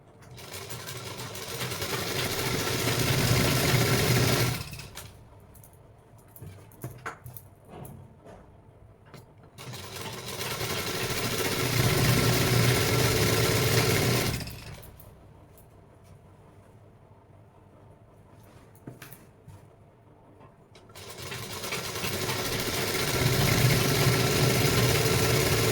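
Sewing machine stitching pieces of a ladies' pant, running in three long bursts of steady whirring with quieter pauses between, close and loud, with no talk.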